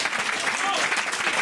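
Audience applause in a studio show, a dense burst of many hands clapping loudly and continuously through the whole short stretch.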